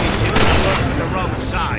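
Rebel soldiers firing guns during a battle in the video game Fable 3, a loud dense burst of overlapping shots and booms with voices talking over the gunfire.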